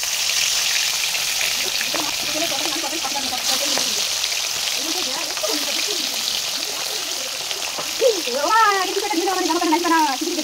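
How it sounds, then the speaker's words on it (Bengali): Singhi and koi fish fry in white oil in a hot wok with a loud, continuous sizzle, while a person talks over it. "এবার আমি সাদা তেল দিয়ে দেবো মাছটাকে ভাজার জন্য।"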